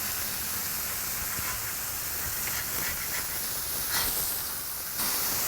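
Smash burger patties on a plancha griddle give off a continuous broad steam hiss, close and steady, with a few brief scraping flares toward the end.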